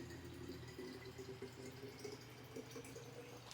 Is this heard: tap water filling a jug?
yes